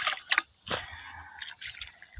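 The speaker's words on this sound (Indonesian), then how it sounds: "jadi semuanya kita siram ya sama air" Water poured over newly planted chili seedlings in a small garden, a few soft splashing drips in quick bursts near the start, then quieter trickling under low background noise.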